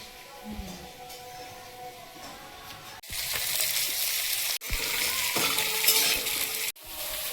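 Small lentil dumplings (bori) frying in hot oil, with a loud continuous hiss that swells and cuts off abruptly a few times, close and without clear talking.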